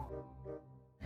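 A dog gives two short, muffled barks at a distance, faint and evenly spaced, followed by a brief burst of other noise.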